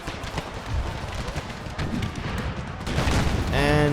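Cannon fire in Empire: Total War with a Brothers vs. Brothers mod, heard as a dense, continuous battle rumble of booming volleys and crackling shots that swells toward the end, and a voice talks over it.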